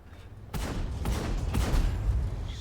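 Heavy tank cannon fire in World of Tanks from a Char Mle. 75 light tank battle, a sharp booming shot followed by rumbling reverberation and a second blast, loud and close, with no voices.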